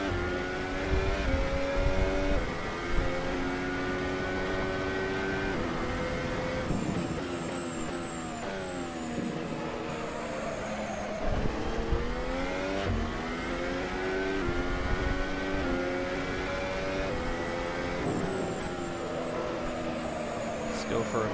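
Ferrari SF15T Formula One car in Assetto Corsa, its engine screaming at full throttle with rising and falling high-pitched harmonics as it shifts through gears, loud and continuous, with a voice talking over it.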